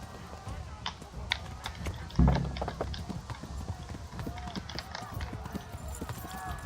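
Horse hooves clip-clopping in the medieval game Kingdom Come: Deliverance, a quick uneven patter of steps, fairly faint and continuous, with a louder thump partway through and voices talking over it.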